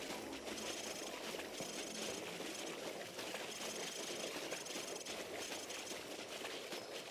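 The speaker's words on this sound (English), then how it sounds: "Vehicle's approaching." A vehicle engine idles steadily in a Call of Duty-style game set among militia territory in Sierra Leone, a constant low rumbling drone with a dense noisy wash that holds evenly throughout without any voices.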